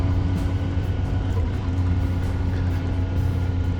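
A new motorcycle on a break-in ride, kept under 6,000 RPM at around 80 mph, gives a steady engine drone mixed with rushing wind noise, loud and constant with no talking.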